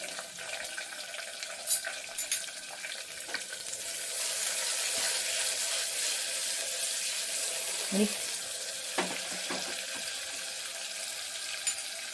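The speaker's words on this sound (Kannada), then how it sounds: "ಸೊ ಈರುಳ್ಳಿ ಹಾಕಿ ಇವಾಗ ಚೆನ್ನಾಗಿ ಫ್ರೈ ಮಾಡ್ಕೋಬೇಕು" Sliced onions fry in an oil-filled pan for an egg pepper dry, giving a steady close sizzle with scattered clicks and scrapes of stirring that swells louder midway.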